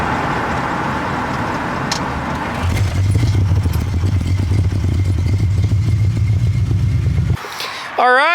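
An AMX with an EFI conversion runs roughly, its engine note dropping into a rougher, choppy stumbling rumble for several seconds before it stalls and goes quiet. A brief voice follows.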